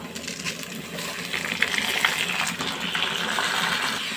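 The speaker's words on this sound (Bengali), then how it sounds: "এখন এখানে আমি ধুয়ে রাখা চালটা দিয়ে দিব" Washed rice tipped into a pot of ghee for chicken pulao, giving a broad gushing, pattering rush of grains that builds and stays fairly loud for several seconds, with small clicky impacts scattered throughout.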